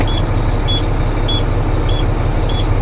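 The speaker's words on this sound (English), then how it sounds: "She's beeping at me because of air pressure." A semi truck idles with a loud, steady engine rumble while an air pressure warning beeps at a regular rhythm, about five short high beeps spaced roughly every half second.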